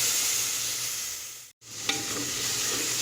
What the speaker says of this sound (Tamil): இது கொஞ്சம் நல்லா பச்சை வாசனை போகிற அளவுக்கு வதக்கணும்.